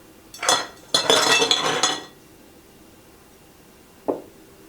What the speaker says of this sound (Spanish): En el recipiente, en el caldero que uses, vierte hielo.